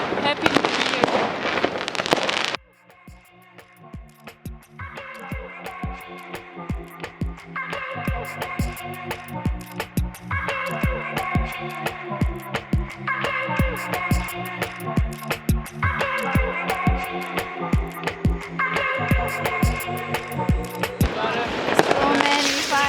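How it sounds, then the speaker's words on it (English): New Year's fireworks burst in rapid, crackling volleys throughout, with a loud rush of explosions at the start and end; music plays underneath and people talk over it. "So many fireworks"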